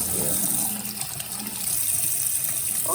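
Running tap water pours steadily into and over a container being rinsed, a close, continuous gush with small splashing shifts in pitch and no voices.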